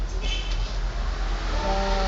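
An Alexandria tram runs on its rails in 2011, heard from on board as a loud, steady rumble. A brief tonal squeal or horn rises near the end.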